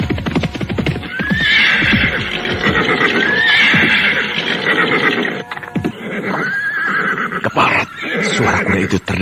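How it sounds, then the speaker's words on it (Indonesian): A horse neighs loudly several times with rising whinnies, close and prominent, over steady clip-clopping hooves in a radio-drama setting. "Suara kuda itu terdengar lagi"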